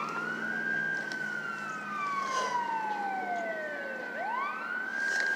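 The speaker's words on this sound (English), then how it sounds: "Sounds like there's some police activity somewhere around here." Police siren wailing nearby, a continuous sweeping tone that glides up and down in long cycles, loud and steady over low traffic rumble.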